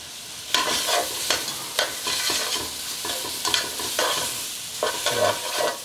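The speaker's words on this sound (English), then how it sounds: "I'm gonna add my onions. I wanna brown those off a little bit." Onions, garlic and tomato paste sizzle steadily in a pot while a spoon stirs and scrapes through them, producing repeated scraping strokes over the frying hiss.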